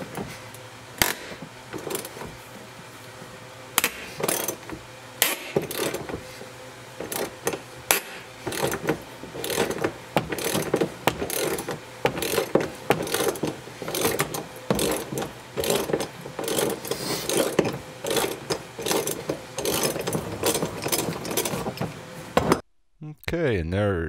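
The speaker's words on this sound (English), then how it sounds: "Now we have to remove another seatbelt bolt to get this plastic off the side of the vehicle." A ratchet wrench works a seatbelt bolt loose on a 2003 Ford Explorer's rear shoulder harness, up close, producing dense, rapid bursts of clicking and metallic ticks throughout, with a brief pause near the end.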